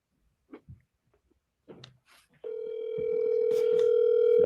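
A telephone dial tone during a live call, a steady electronic tone that starts abruptly and holds to the end, preceded by a few faint clicks and rustles.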